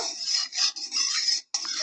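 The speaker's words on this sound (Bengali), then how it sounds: "ঘিটা একটু নাড়ি চাড়ি ভালো করে গলিয়ে নেব" Metal utensil scraping and stirring melting ghee in a wok, a steady rasping that pauses briefly a few times, close by with no talking.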